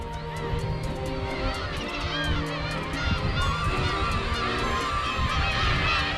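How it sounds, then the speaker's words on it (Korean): Flocks of seagulls call over a rocky sea coast with steep cliffs off Ulleung. Many loud, overlapping squawks and honking cries come close together, with faint wind and surf underneath. "오늘 진짜 갈매기가 많네요."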